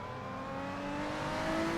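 A Lotus 3-Eleven engine droning steadily on a warm-up lap at Brands Hatch in the Assetto Corsa racing game, a faint, continuous hum with a slowly rising pitch and no talk.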